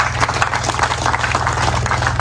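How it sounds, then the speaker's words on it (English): A crowd at a gathering in Acholi, Uganda, claps for a man, loud and close, with a steady low hum running beneath the dense applause. "You clap for this man."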